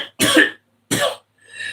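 Two harsh, close coughs in quick succession from someone on cough medicine, followed by a faint throaty clearing sound.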